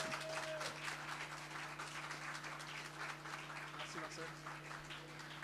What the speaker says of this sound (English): vous pouvez applaudir Marcel à nouveau pour m'avoir accompagné